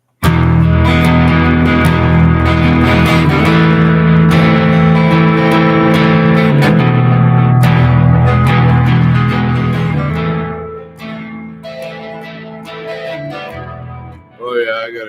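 An electric guitar soaked in heavy reverb and delay rings out in loud, sustained, effected chords for about ten seconds, then its tails decay and thin out toward the end.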